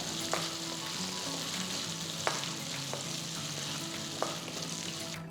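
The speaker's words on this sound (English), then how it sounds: "Saute the shallots just for about 2 to 3 minutes. Add in a few curry leaves and mix everything well." Shallots and curry leaves sautéing in a pan, a close, steady sizzle with a few sharp clicks of a spoon against the pan as they are stirred, no talk.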